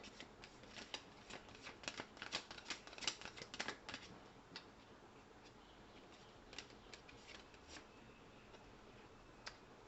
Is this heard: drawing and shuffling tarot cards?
yes